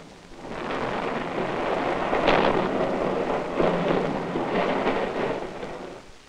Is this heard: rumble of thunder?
yes